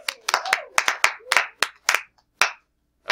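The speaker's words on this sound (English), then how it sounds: "Let's give Ramen a big round of applause." Scattered, uneven clapping from a small group of students in a seventh-grade math class, a handful of sharp claps in an irregular rhythm that quickly tapers off.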